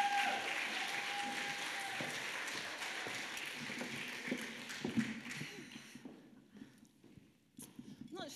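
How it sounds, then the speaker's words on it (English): Conference audience at a May 2022 Fulfilling Lives event applauds to welcome a speaker to the stage: steady crowd clapping for about six seconds, then thinning out, with faint voices near the end. "So let's give Diane a round of applause and welcome her to the stage."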